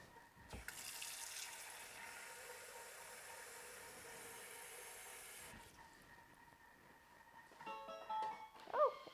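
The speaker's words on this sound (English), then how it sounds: "I'm going to add a little bit more water" Warm water pours steadily from a kitchen container over rice vermicelli (bihun) for mee siam, a continuous splashing hiss lasting several seconds before stopping, followed by quieter handling clatter and a few brief clinks.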